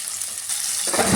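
Sliced onions frying in a pan of hot oil for an Indian egg curry, a steady hiss that jumps into a louder, fuller sizzle as they hit the oil and get stirred, close up.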